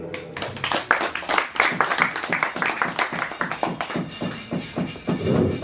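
An audience at a book discussion and poetry anthology event claps in quick, uneven bursts of hand claps. The applause is close and fairly loud, with a few voices mixed in.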